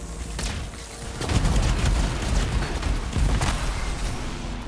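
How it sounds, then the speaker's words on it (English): A big explosion goes off in the video game Anthem: deep rumbling booms and crackling blasts roll on continuously at close, loud range, with no voices. "that's a big boy explosion right there"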